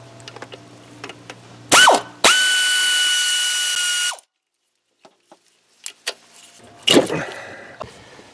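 A ratchet works a 5/16 clamp on the throttle body coolant hose of a third-gen Camaro TPI engine, giving a short clicking burst, then a loud steady mechanical whir of about two seconds, then scattered small clicks and a final brief rattle.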